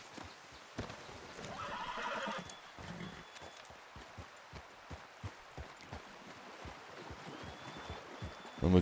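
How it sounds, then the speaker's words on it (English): A horse in Red Dead plods along with a steady, close clip-clop of hooves, snorting and neighing at times, with water and other outdoor game ambience behind it. "I hear somebody's horse."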